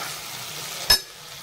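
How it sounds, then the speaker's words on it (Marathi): Steamed eggplant and potato vegetable with peanut powder gets stirred in a pan: a steady low hiss of cooking with one brief scrape or clink of the spoon partway through. "पुन्हा भाजी एकदा खालीवर हलवून घ्यावी"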